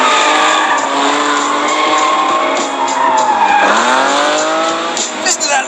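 A Lamborghini Countach engine roars close and loud, its pitch sliding down then climbing again as the revs drop and rise, with a tire-squeal-like whine over the top and no pauses.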